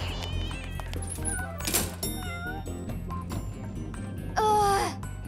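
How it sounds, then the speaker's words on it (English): A cat meows indoors several times, with a long strained wail near the end; the calls stand out clearly against a busy background of other sounds. "I can't believe a cat just walked into an office"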